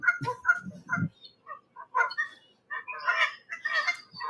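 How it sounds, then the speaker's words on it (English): Geese honk in a series of loud, close calls, several overlapping nasal honks in irregular bursts with short pauses between them. "Yeah, those are geese."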